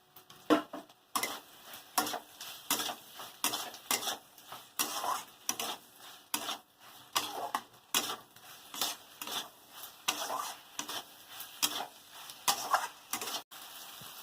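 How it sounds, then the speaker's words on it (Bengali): A spoon stirs a ground mustard, poppy seed and dried chili spice paste in a cooking pan with greens, giving steady repeated scraping strokes with a faint sizzle, close and alone for the whole stretch. "মশলাটা দিয়ে একটু নেড়ে নিয়েছি"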